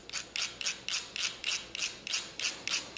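A steel scraper grinding along a ferro fire rod over a cotton ball, with about ten regular, evenly spaced rasping strokes, close and crisp, and no talk.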